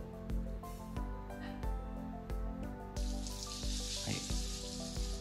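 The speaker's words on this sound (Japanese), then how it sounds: "シャワーで流していきましょう。" Water sprays steadily from a shower head on a garden hose onto balcony plants, a broad hiss that grows louder midway, with background music and a brief word spoken.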